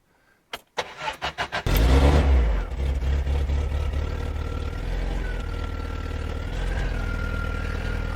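A 1964 Triumph Spitfire Mark II engine with SU carburetors, unstarted for months, cranks in a quick series of churning turns, catches with a loud burst, then settles into a rough, loud, close idle with some revving.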